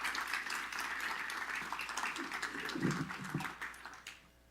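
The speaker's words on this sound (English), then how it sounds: "Give yourselves a round of applause." A room of veterans at a business summit claps in a round of applause, a steady faint wash of many hands with low murmuring voices beneath, fading out at the very end.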